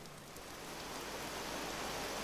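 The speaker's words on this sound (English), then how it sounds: "Oh, it's hailing, I think." Hail and rain fall in Vintage Story around an old mud-built house, a soft, even hiss of pattering that swells slightly over a couple of seconds, fairly quiet and uninterrupted.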